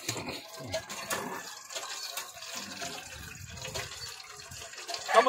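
Water being poured in, a faint trickling and filling sound that swells briefly near the end, with quiet background noise.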